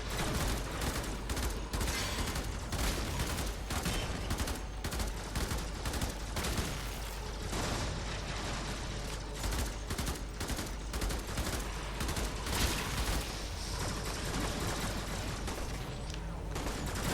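Dense, continuous rapid-fire weapon bursts in Warframe's T3 Defense mission, sustained loud crackling volleys over about seventeen seconds with no pause.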